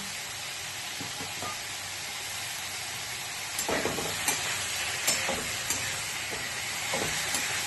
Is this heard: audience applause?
no